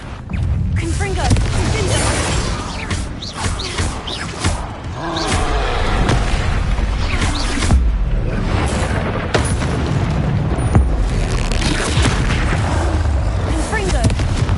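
Explosive Confringo spell blasts in the Hogwarts Legacy video game, heavy booms and thuds repeating amid a loud, busy combat mix with character voices and effects, close and continuous.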